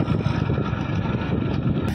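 A tractor engine rumbles steadily in a harvested wheat field, a loud, close, continuous drone with a rough texture and no talk.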